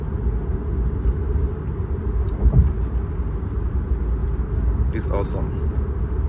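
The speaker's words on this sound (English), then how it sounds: "So the car is driving by itself on auto drive" Steady low road rumble inside a self-driving car cruising on auto drive in China, a continuous engine and tyre drone under a voice.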